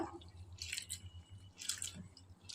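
Thick flattened rice (aval) rinsed in water for lemon upma, heard as soft watery squishes and drips in two short bursts, quiet and close with a low background hum.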